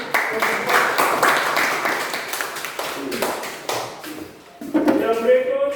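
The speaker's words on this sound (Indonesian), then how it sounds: "Ayo tepuk tangan." A classroom audience at an Indonesian teacher-training session breaks into loud, close clapping that thins to scattered claps before a voice speaks briefly near the end.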